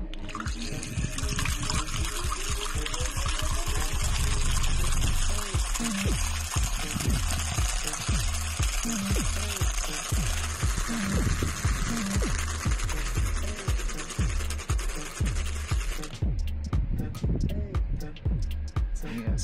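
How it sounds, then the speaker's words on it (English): A USB rechargeable milk frother fitted with its big mixer attachment whirs continuously and close, with a busy liquid churning and scratching texture, before it stops near the end. "Now we will attach the big mixer and turn"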